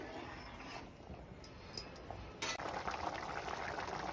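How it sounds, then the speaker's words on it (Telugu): Arbi (taro root) curry bubbling as it boils in a pot, a faint steady simmer with soft popping bubbles that grows a little denser toward the end, no talking. "ఇట్లా బాయిల్ అవుతూ ఉంటుంది, బబుల్స్ వచ్చి"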